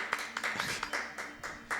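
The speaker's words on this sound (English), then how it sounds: "I'm gonna applaud" A commentator at the ESA Germany 2017 speedrun marathon claps at a close microphone, giving about eight sharp, evenly spaced hand claps with no talking.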